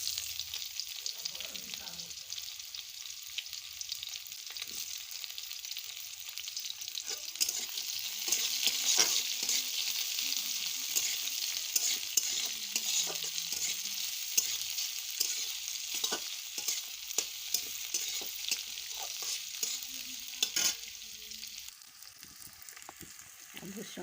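Onions frying in oil with cumin seeds and chili, a steady bright sizzle running throughout with soft scraping stirs and small clinks, fairly close and without any talk.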